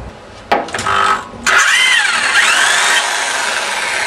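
A power drill fitted with an impact driver bit whirs up in bursts, then runs steadily with a rising and falling whine as it backs out wheel spoke nipples, loud and close in a workshop.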